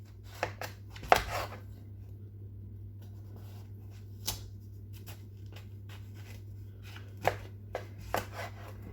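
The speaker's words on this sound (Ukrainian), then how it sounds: "Гарбуз я нарізаю ось такими дольками" A knife cuts through firm pumpkin flesh in scattered crisp chops and scrapes, close and fairly quiet, with a low steady hum behind.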